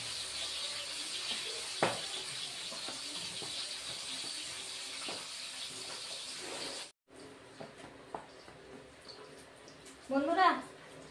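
Pabda fish frying in hot oil gives a steady, dense hiss for several seconds, then breaks off into quieter crackles with a brief voice near the end.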